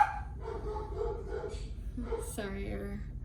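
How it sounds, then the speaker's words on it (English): Several house dogs bark and yip in short, irregular bursts somewhere in the background, mixed with a person talking nearby. "our dogs are barking right now because there's some kids in the front yard."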